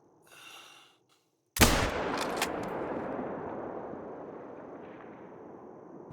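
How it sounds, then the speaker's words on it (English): A single hunting rifle shot at a coyote at night in theHunter: Call of the Wild: one sharp, loud crack followed by a long, rolling echo that slowly fades, with a faint breathy sound just before it. "Well, that was a terrible shot."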